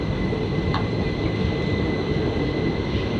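Onboard rumble inside an ICF first-class coach of the 11405 Pune–Amravati Express running at speed, a steady loud broadband roar with faint rail noise and no talk.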